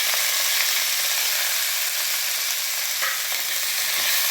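Thuthuvalai leaves and garlic sauté in hot oil, a steady bright sizzle with occasional soft stirring scrapes, close and continuous throughout.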